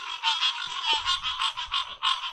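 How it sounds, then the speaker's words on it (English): A chorus of frogs croaks from a muddy area, with rapid, pulsing calls repeating several times a second, close and clear, and no talking. "A lot of frogs."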